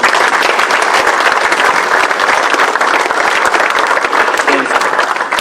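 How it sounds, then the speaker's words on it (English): An audience at a spring turkey hunting seminar in Phoenix, Arizona claps for Jay and Darr, loud, dense and continuous applause from a full room close by, with voices mixed in. "let's give a round of applause for Jay and Darr"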